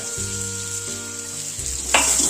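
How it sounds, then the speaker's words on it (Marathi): Chopped onion dropped into hot tempering oil for a Konkani onion amti, bursting into a loud, steady sizzle that flares brighter near the end as it is stirred. "कांदा घालून घ्यायचा"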